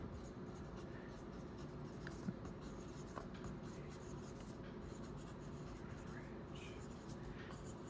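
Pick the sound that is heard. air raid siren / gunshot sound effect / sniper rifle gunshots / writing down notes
writing down notes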